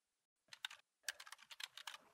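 Typing on a computer keyboard, a short burst of clicky keystrokes, a brief pause, then a longer run of quick irregular key taps, close and clear with no talk.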